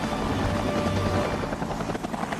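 A helicopter hovering at ultra-low altitude holds a loud, steady rotor and turbine drone that stays close and continuous throughout, with a constant beating texture.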